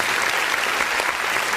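A church congregation applauds at the close of a worship service, a steady, dense clapping that fills the room without a break and with no voices rising above it.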